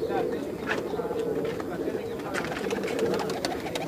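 Allahabadi pigeons, full white and mixed-colour birds kept for sale, coo steadily in a low murmuring drone, with overlapping coos throughout and faint chirps above.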